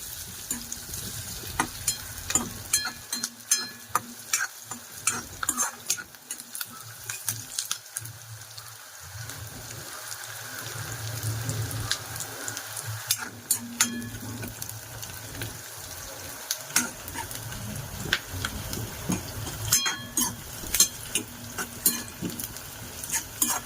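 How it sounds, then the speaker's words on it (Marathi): Dried Bombay duck roasting in a pan, a steady close dry sizzle with scattered sharp crackles and intermittent scraping and stirring strokes throughout, no talk. "लाल होईपर्यंत भाजूया."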